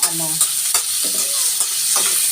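Ground meat sautés in a pan with garlic and tomato for a Filipino giniling dish, a loud, close, continuous sizzle broken by a few spatula scrapes and knocks.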